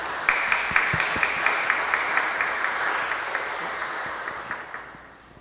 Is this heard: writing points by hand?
no